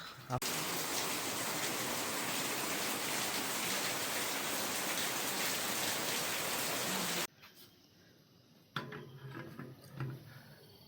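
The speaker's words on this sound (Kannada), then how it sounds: "ಇವಾಗ ಫುಲ್ಲು ಜೋರು ಮಳೆ ಆಗಿ ಈ ಥರ ಇದೆ ವೆದರು" Heavy rain pours steadily in a loud, dense roar, then cuts off abruptly, leaving quieter scattered drips and rustles.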